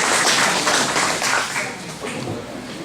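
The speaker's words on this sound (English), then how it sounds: "Give him a round of applause." Applause from a small audience for a speaker at an amateur radio licensing talk, dense overlapping clapping lasting a few seconds with some voices mixed in.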